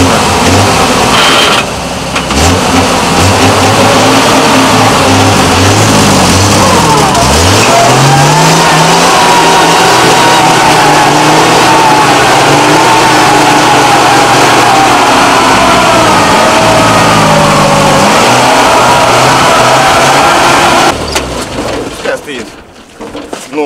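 A GAZ-63A truck engine works hard in a swamp, revving loudly and close with rising and falling pitch as it strains and shifts, then cuts away near the end; voices are heard at times.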